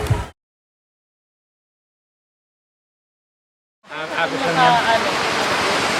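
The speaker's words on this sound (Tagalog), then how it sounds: "itong ilog na ito pinuntahan din namin" River water rushes steadily in a clear-flowing river in a barangay, a loud broadband wash that starts abruptly after a stretch of silence and continues close by without talk.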